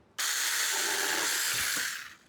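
A SEESII mini cordless chainsaw cutting timber outdoors: a sudden high whining buzz, loud and close, held steady for about two seconds before winding down.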